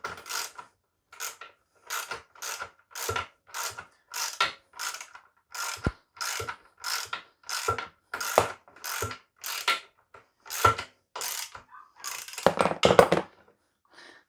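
Mechanism of an Axminster craft table saw's mobile base being adjusted to lift and lower, giving a steady series of short ratcheting clicks about twice a second, close and fairly loud, with a denser burst near the end and no talk.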